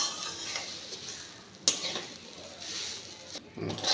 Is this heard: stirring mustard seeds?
yes